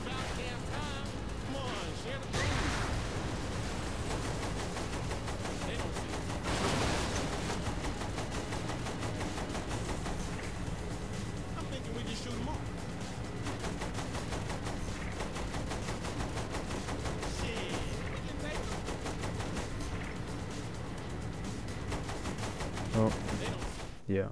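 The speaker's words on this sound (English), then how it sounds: "Use the machine gun then, not the cannon." Machine gun fire in Saints Row 3, dense continuous bursts of rapid gunfire with crashes and game effects, loud throughout, with players talking over it.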